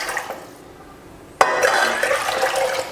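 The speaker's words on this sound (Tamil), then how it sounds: "ஒரு பாத்திரம் வச்சு அதில் தண்ணி சேர்த்துக்கலாம்." After a brief lull, water suddenly gushes and pours steadily into a cooking pot, splashing loudly and close by.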